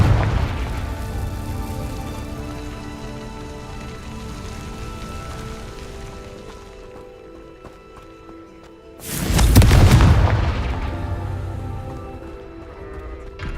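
A Confringo blasting spell in Hogwarts Legacy erupts as a loud, sudden boom about two-thirds of the way through, rumbling briefly before fading back into a steady ambient game bed.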